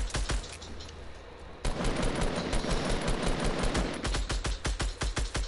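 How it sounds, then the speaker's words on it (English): Rapid bursts of gunfire in the Fortnite video game, with a sparser run of shots that turns into a dense, continuous fusillade, then breaks into sharp separate cracks near the end, loud and close. "Keep shooting. I'm reloading."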